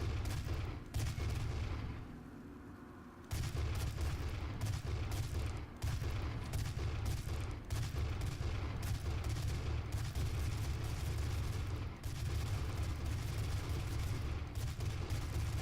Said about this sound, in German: Gehen echt die Schüsse überhaupt so weit?